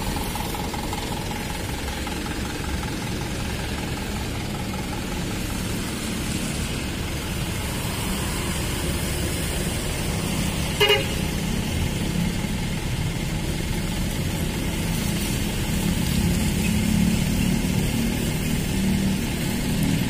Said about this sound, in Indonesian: Ya, busnya sudah dihidupin, sudah selesai mengisi solar.